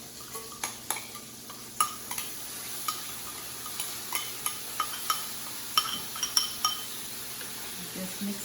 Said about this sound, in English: We're going to take all of this yummy stuff. We are going to add it to our beans.